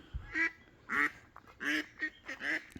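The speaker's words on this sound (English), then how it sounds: "The ducks are very loud today." Loud, nasal quacks from ducks nearby, about five calls in an irregular run with short gaps, clear and unaccompanied by talk.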